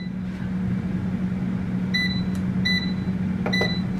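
An air fryer's control panel gives three short electronic beeps as the cooking time is set, each clear and close over a steady low appliance hum.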